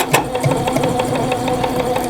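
Sewing machine back stitching near the edge of a fabric eyeglass or pencil case, a steady close motor whir with rapid repetitive needle ticks running throughout, loud and alone.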